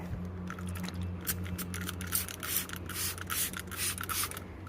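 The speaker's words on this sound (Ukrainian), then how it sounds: "Ось спрей. Стрім це буде такою струєю пшикати." Winso glass cleaner squirted from a spray bottle set to a stream onto a door, giving a series of short hissing bursts with a low steady hum underneath.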